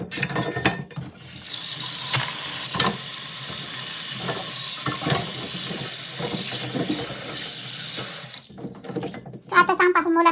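Water pours steadily from a tap into a bowl to soak rice noodles (bihon) for pancit canton, a loud continuous splashing rush that lasts several seconds before stopping, with brief clatter and talk near the end.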